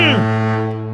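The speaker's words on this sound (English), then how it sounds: "Ring that foghorn one time, Breezy." A loud, deep, sustained foghorn blast with a steady tone and a slight pitch sweep at the onset, slowly fading, celebrating a 49ers win over the Bears.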